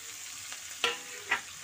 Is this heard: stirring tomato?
yes